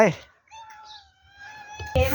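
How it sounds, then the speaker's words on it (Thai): A stray cat at a rural garden home lets out one drawn-out, close meow with a rising then falling pitch, bracketed by someone talking just before and after. "อันนี้เป็นแมวจรนะครับเขาชอบมาอยู่บ้านหลังนี้ มาขอของกินครับ"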